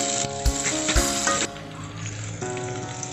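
Onions frying in a pan for tomato pachadi, a steady close sizzle with a few sharp clinks and scrapes from stirring early on, settling into a continuous hiss.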